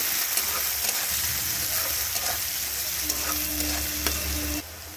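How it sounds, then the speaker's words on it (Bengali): Chopped onion fries in hot oil with a dense, steady sizzle and crackle, close and fairly loud, with light stirring clinks, before it suddenly drops quieter near the end. "এখানে পেঁয়াজটাকে খুব ভালো করে একটু ভেজে নিতে হবে।"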